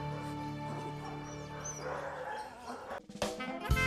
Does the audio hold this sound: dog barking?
yes